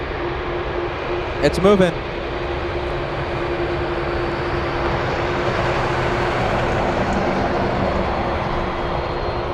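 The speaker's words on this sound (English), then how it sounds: "Do you hear that sound? That's the MD-11." McDonnell Douglas MD-11 jet engines at Anchorage airport, a steady broad rumble with a rising whine, continuous and fairly near, with a brief voice speaking early on.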